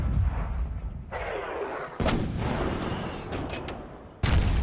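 Support howitzers in Wargame Modern Campaigns fire in heavy booming blasts, one opening the stretch, another about two seconds in and a last sharp crack near the end, each trailing off in a rumbling roar.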